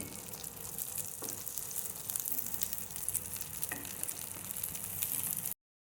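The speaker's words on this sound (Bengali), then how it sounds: "এবার বড়াগুলোকে উল্টে নেব অপর পিঠ ভেজে নেওয়ার জন্যে।" Fish roe fritters frying in hot oil in a pan, a steady close sizzle with a few brief clatters and stirring sounds, no voices.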